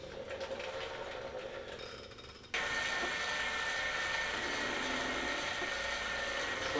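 Wahoo Kickr Climb raising the front of a bike in steps on an indoor trainer, giving a steady mechanical whirring and ratcheting that jumps louder partway through and then holds, with no talk.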